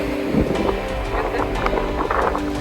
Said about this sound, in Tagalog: Malakas talaga yung alon niya because we're facing the Pacific Ocean, open sea.